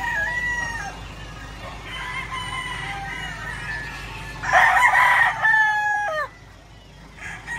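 Roosters crow repeatedly in the morning, several long cock-a-doodle-doo calls overlapping at close range, with a louder nearby crow in the middle and clucking chickens underneath.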